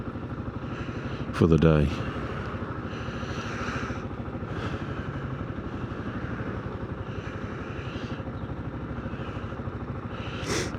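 A motorcycle cruises through a small suburban town in New Zealand, its engine a steady, close drone throughout, with a brief louder rattle early on and a rider speaking briefly over it.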